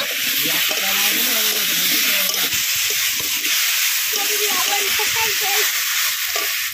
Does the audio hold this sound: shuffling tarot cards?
no